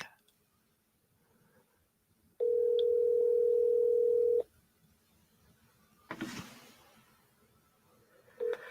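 A telephone call tone sounds while a phone is being rung, one steady electronic tone lasting about two seconds, loud and close, followed by a brief rustle and a short clipped repeat of the tone.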